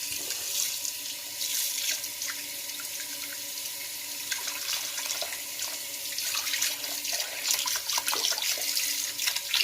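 A tap runs steadily into a sink for a rinse during a straight-razor shave, a continuous close splashing stream with small drips, no voices.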